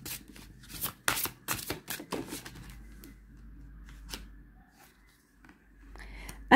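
A deck of oracle cards being shuffled by hand, with quick papery riffles and slaps up front, then quieter handling and faint rustles, close and without speech.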